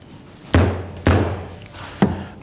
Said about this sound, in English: I'll use a rubber mallet, hit that with a regular hammer.